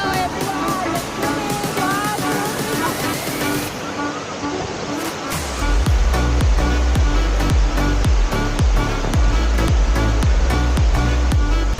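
Rushing water at Lagaan Falls on Siquijor gives a steady, loud broadband roar throughout. A thumping musical beat joins about halfway through.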